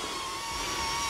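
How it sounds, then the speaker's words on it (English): The DJI Neo 2 drone flying in wind makes a steady high whirring whine, with a constant motor tone under a rushing hiss. Close and continuous for about a second. "Okay, so that is the noise of the DJI Neo 2."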